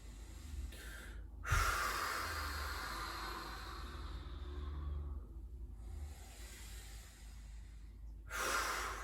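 Slow, deep breaths drawn in and let out during a standing forward-fold stretch, a sharp intake near the start and another near the end, close and steady with faint background hum, no talking.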